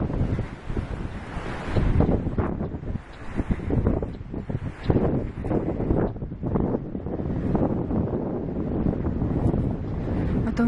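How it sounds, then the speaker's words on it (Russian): Strong wind blows outdoors over tall grass and maple trees, a steady loud roar buffeting the microphone with rising and falling gusts throughout, no voices. "Сейчас здесь будет ветер опять."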